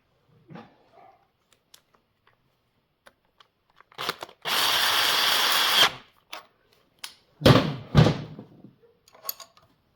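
Power tool work on a Massey Ferguson 780 Special combine, a nut being run tight: a sustained two-second whir of a drill or impact driver, then short bursts and metallic clanks nearby, with no talking.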